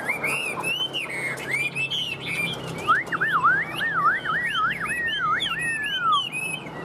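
A caged Chinese hwamei songbird pours out a long, varied run of loud, clear whistled phrases that rise and fall, close and continuous against a soft background hiss, with no voices.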